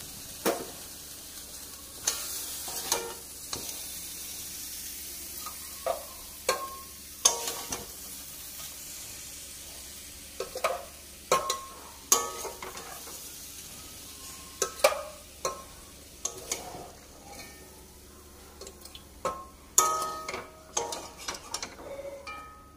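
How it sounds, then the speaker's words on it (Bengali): Cooked mutton being scraped from a wok into a pressure cooker with a spatula: irregular metallic scrapes and knocks over a soft, faint sizzle in a quiet kitchen. "আমি এখন এই কড়াই থেকে প্রেসার কুকারে এটাকে ট্রান্সফার করে দেবো"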